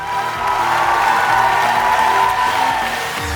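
A studio audience on a Vietnamese televised memory competition gives loud, sustained applause and some cheering for a guest judge from Hanoi, a dense, steady roar of clapping lasting a few seconds.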